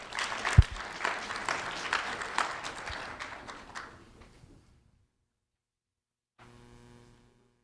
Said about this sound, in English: A round of applause for Juan Carlos